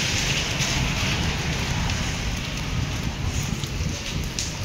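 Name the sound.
heavy rain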